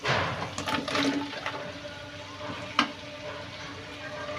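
Potatoes with fish frying in a pan, with a steady close sizzle and a few scraping clinks as a spoon stirs them, one sharp knock of the utensil against the pan near the end.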